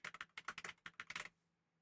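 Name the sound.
typing a login password on a computer keyboard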